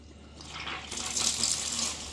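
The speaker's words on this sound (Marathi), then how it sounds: "आता ते भरतंय पूर्ण पहिले पाण्याने" Water rushes and splashes steadily into an Aquaguard water purifier pre-filter, building louder partway through and continuing without pause.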